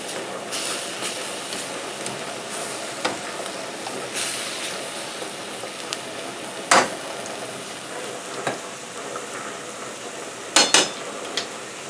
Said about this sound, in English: We add our minced garlic, laurel, ham, garlic oil, that's all that's in that pan.